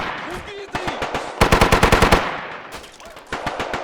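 Rapid bursts of automatic gunfire rattle in quick series, loud and close, with a few single heavier shots scattered between the volleys, from a cannon in the video game Blue Dawn: Rise of Nationality.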